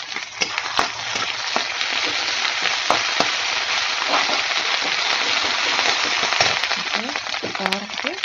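Onions sautéing in a pan with ginger and garlic for kothu chappathi, a dense, steady crackling sizzle with occasional sharp pops and utensil taps near the end.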